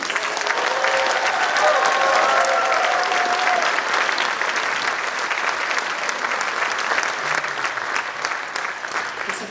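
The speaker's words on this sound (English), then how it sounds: "can we give a big round of applause for these students?" A school band concert audience gives a long round of applause for the student musicians. Many hands clap steadily and loudly throughout, with faint crowd murmur underneath.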